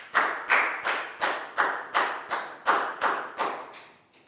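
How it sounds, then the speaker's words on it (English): A Year 4 maths class claps together for a classmate in nine evenly spaced, rhythmic group claps, each a crisp unified smack with a short room decay, close and clear with no talking. "High five and a big round of applause for Nadia"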